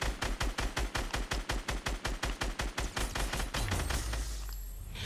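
Rapid automatic gunfire in a video game, a steady stream of evenly spaced shots for about three seconds, then a rumbling explosion-like roar that fades out.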